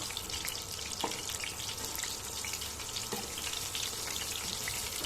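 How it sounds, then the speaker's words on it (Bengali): Chicken pieces deep-frying in hot oil, a dense, even crackling sizzle with scattered pops, close and continuous with no talking. "8 থেকে 10 মিনিটের মতো চিকেনটাকে খুব ভালো করে ভেজে নিতে হবে"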